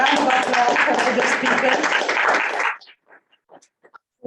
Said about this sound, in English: So thank you again, and a round of applause for the